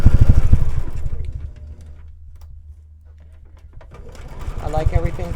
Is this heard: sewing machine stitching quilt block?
yes